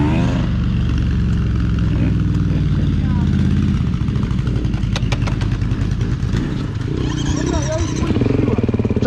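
A motorcycle engine runs loud and close during wheelie practice, revving and idling steadily throughout, with a rough low rumble and brief higher whines near the end.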